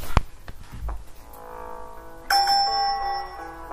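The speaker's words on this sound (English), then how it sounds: "That's the bell." A bell rings out clearly over a noisy room to signal a speaker to wrap up, a single bright, sustained ding that lingers after a few muffled knocks and background murmur.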